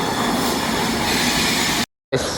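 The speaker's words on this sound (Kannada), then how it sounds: "ಎಸ್ ಇವಾಗ ಟ್ರೈನ್ ಬಂದಾಗೈತೆ" Train pulling into a station platform in Mysuru, loud steady rumble of rolling wagons with faint wheel squeal, broken by a brief cut before the noise resumes.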